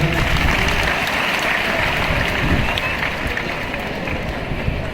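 A Christmas church congregation claps loudly and continuously, a thick wash of many hands filling the hall from start to finish.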